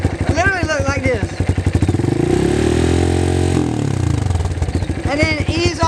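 A dirt bike engine revs up close as the throttle is given, a loud steady drone rising then settling, with a person talking before and after the rev.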